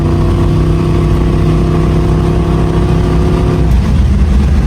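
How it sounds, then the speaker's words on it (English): A car's engine runs steadily at high road speed while being prepared for a race week, a loud continuous drone with strong low harmonics that shifts briefly near the end, with no voices. "The car's nice and smooth all the way up to like 100 miles an hour."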